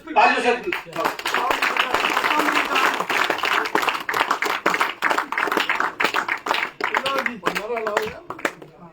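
Crowd applause at a BJP political rally in Jammu and Kashmir, steady rapid clapping from many hands lasting several seconds, with a voice speaking over it at the start and chanting voices mixed in.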